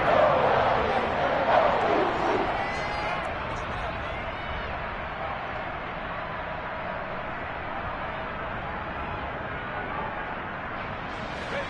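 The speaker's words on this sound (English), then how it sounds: "the crowd getting into it as we come up on a big 3rd down" Stadium crowd noise from an American football video game swells into a loud, steady roar of cheering that holds throughout, with a brief burst of louder shouting near the start.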